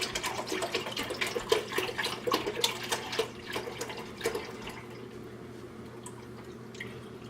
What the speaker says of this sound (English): we're going to pour our half and half